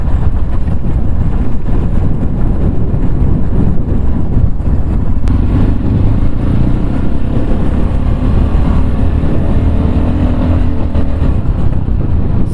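A Tekken 250 motorcycle rolling along in neutral, a loud steady low engine drone with wind rush close to the rider, then the throttle opens and the engine note rises and strengthens.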